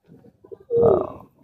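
A pigeon from a rooftop loft gives a few soft low murmurs, then one fuller, louder rolling coo close by, followed by quiet trailing notes.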